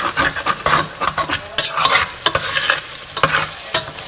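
Lima beans with Maggi seasoning are stirred in a pot, a spoon scraping and knocking against the sides in rapid repeated strokes over a soft sizzle, close and loud with no speech.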